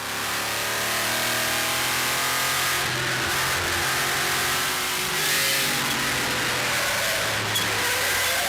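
Engine of a Shelby Cobra race car on the Tour Auto 2005 rally, a steady mid-pitched drone revving up and easing off over several seconds, loud and continuous with no talk.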